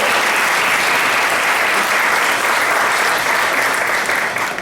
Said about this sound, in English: a big hand of applause to volunteers